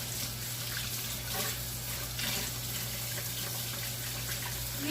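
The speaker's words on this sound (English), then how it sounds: "let me wash my hands." Tap water runs steadily into a sink while hands are washed, a continuous even rush of water over a low electrical hum, close and unbroken for the whole stretch.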